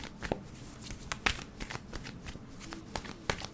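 Tarot cards are shuffled by hand close up, with soft riffling and flicking and a few sharper slaps as the deck is squared, all in a quiet room.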